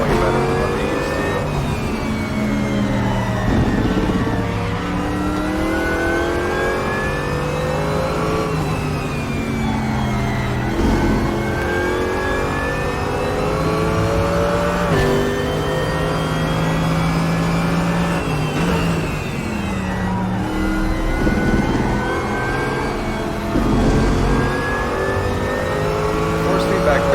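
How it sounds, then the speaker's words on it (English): A GT3 race car engine in the RaceRoom racing video game revs up and down continuously as gears shift, loud and close, with tire noise and a voice talking over it, at Laguna Seca. "they also updated like all the transmission sounds in the GT3 cars and the tire noises as well"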